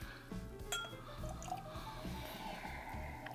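A drink being poured from one glass into another, heard as a quiet, close trickle of liquid with faint clinks of glass and a low background hum, without talk.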